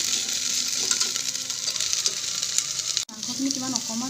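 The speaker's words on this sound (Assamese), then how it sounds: "একেবাৰে কম তেলতে এয়া মাংসখিনি বনাম" Pork frying in very little oil, giving a steady close sizzle throughout, briefly cut off and then resuming with some stirring, with no talk.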